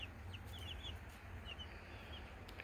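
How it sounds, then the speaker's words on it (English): Lavender Orpington chickens, five hens and a rooster, clucking softly in a backyard homestead pen, a few faint, brief chirpy clucks over a low, steady background hum. "5 female lavender Orpingtons and 1 male."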